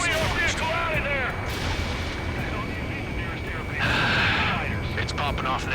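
Anti-aircraft guns fire in Ace Combat 7 among aircraft and battle noise, booming under radio chatter and sweeping tonal warning sounds, with a louder surge partway through.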